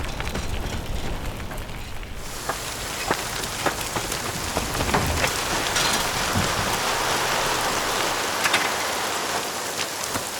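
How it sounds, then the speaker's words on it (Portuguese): Steady rain pours down on surfaces in a broad constant hiss, with scattered drop impacts and no voices over it. "E essa chuva agora?"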